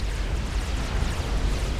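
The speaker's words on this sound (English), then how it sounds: "and boom, down goes Dima in a big explosion to a torpedo comm." A commander unit blows up from a torpedo hit in the real-time strategy game Supreme Commander: Forged Alliance, giving a dense, rumbling explosion roar that holds steady through the short moment with no voices.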